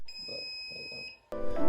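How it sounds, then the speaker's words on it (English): A Dahua NVR sounds a steady, loud high-pitched electronic beep during a factory reset, holding for about a second before cutting off, then followed by a brief burst of other noise. "you should hear a loud beep"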